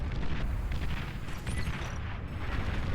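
Dense rumbling explosions from a bombing run in the real-time strategy game Beyond All Reason, a continuous heavy roar of blasts filling the whole stretch without pause.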